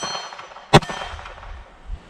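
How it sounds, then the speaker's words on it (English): A pistol bullet strikes an MGM steel gong target, giving one sharp, loud metallic clang that rings briefly before dying away. "Let's start off with the MGM Targets gong here."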